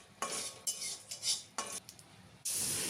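Whole spices and turmeric are stirred in a kadai, with quiet scraping and a few soft clinks of a spoon against the pan, close by and without any talking.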